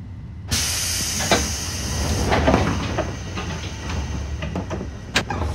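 Train doors closing on a 205-series Keiyo Line train in the BVE5 simulator, a sudden hiss of air starting the sequence, followed by rumbling and a few clunks and knocks, ending with a sharp thud.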